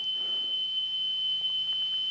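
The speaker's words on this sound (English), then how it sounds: "So this should be 3150 hertz" A steady 3150 hertz test tone plays from an Amstrad 7070 cassette deck, a single continuous high-pitched whine held unbroken throughout, moderately loud, over a faint low hum.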